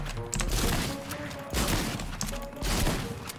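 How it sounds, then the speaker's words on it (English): Shotgun blasts in Fortnite during a close fight: three loud, sharp booms spaced about a second apart, each followed by crashing debris and rumbling decay. "a strong shotgun"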